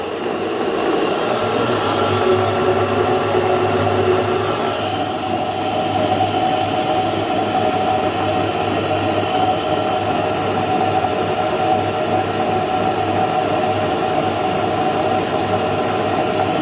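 A small, cool-running 3 kW pellet mill motor runs steadily, a continuous droning hum with a mechanical whine that holds for the whole stretch.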